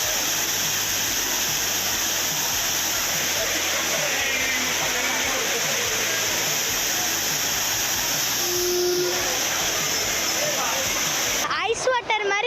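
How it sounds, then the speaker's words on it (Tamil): Water pours down the main falls and Five Falls at Courtallam, a steady loud rushing roar with no break, and voices are heard briefly near the end. "ஐந்தருவி இந்த மெயின் ஃபால்ஸ் அதுலலாம் நல்லா தண்ணி வருது"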